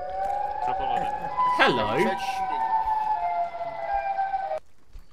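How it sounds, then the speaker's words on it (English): A wailing air raid siren inside the video game Arma holds a long, steady droning tone close up, with one swooping rise and fall partway through. A voice speaks briefly over it. "No, that's a air raid sound."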